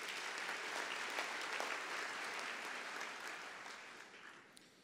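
An audience at the CPUT autumn graduation ceremony, April 2019, applauding in a hall, a broad steady wash of clapping that gradually fades toward the end, heard from a distance.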